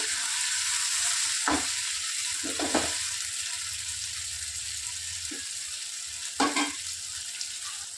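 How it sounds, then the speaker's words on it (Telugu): Thinly sliced tomatoes fry with a steady, bright sizzle in a pan, with a few short scraping stirs breaking through; no one talks. "సో ఇలా సన్నగా కట్ చేసి పెట్టుకున్న టమాటాలను వేసుకోవాలి. వేసుకొని కొద్దిగా మిక్స్ చేసేసుకోవాలండి."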